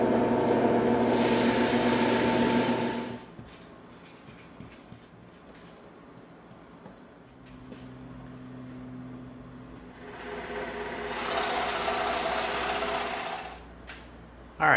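A scroll saw cuts through EVA foam with a rapid, buzzing mechanical chatter in two loud bursts, separated by a quieter stretch of lower motor hum.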